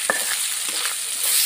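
Garlic and ginger hitting hot oil with onion and chili, stirred in a pan for a chicken and taro curry; a steady close sizzle with a few scraping stir strokes, no talking.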